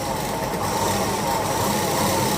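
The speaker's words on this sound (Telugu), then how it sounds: "మీరు మోటార్ ఫస్ట్ టైం అయితే స్లోగా వేసుకోండి." An electric motor sewing machine runs at a slow, steady pace while a beginner practises stitching rounds on cloth. It makes a continuous, even motor whir close by, with no talking.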